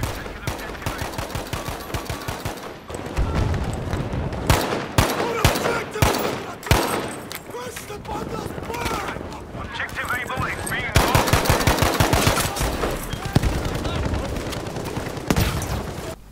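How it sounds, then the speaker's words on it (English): A Tommy gun fires in long, rapid automatic bursts in the video game Battlefield V, loud and close with near-constant shooting and brief pauses, while someone talks over it. "So here's the Tommy gun after the update, and you're gonna notice that it does take a lot more bullets to kill."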